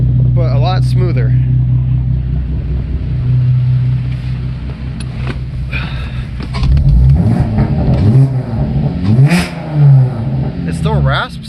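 A Cadillac STS engine revs through a newly fitted exhaust, a steady close low drone that swells into several throaty raspy pulls in the second half, smoother than harsh.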